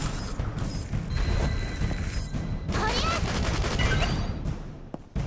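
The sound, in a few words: gunfire from a video game (Dead or School)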